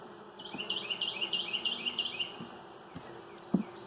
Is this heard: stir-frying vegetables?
no